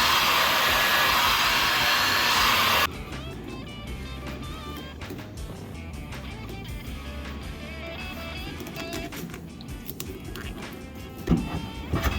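A heat gun blows steadily and loudly up close while shrinking heat-solder wire fittings during car stereo wiring in a 2011 Nissan Altima, then cuts off after about three seconds, leaving quieter handling noises and faint background clatter.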